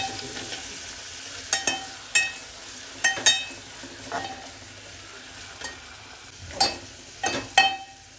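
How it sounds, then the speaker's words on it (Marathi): Onions fry and brown in a pan for a spicy Konkan-style chicken with tender cashews, the gentle sizzle steady beneath sharp, irregular clinks and scrapes of a spoon stirring against the metal. "आपला कांदा चांगला ब्राऊन झाला थोडा थोडाच ब्राऊन करायला असतो कांदा व्यवस्थित"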